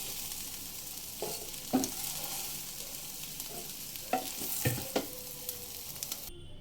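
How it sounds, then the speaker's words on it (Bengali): Soybean chunks frying in a pan over medium flame, a steady sizzle with intermittent scraping and knocks of a stirring spoon, close and alone. "মিডিয়াম ফ্লেমে চার থেকে পাঁচ মিনিট নেড়ে নেড়ে সয়াবিনগুলো ভেজে নেব"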